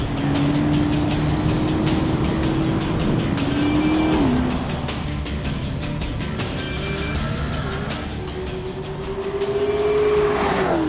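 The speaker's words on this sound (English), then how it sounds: "it's the greatest road car I've ever driven" A fast road car drives hard at speed, its engine droning loud and close with pitch rising and falling through gear changes, tires faintly squealing, and no talk over it.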